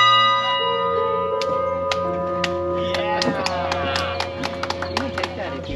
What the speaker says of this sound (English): I am going to ring the bell, and it is pretty loud